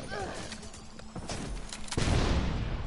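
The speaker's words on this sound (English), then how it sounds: "Look at the pretty explosions." Gunfire and explosions from The Division 2 video game sound as bursts of rapid shots, then a louder boom near the end. A voice talks over the action.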